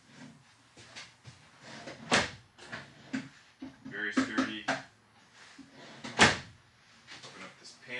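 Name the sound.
large RV pantry drawers opening and closing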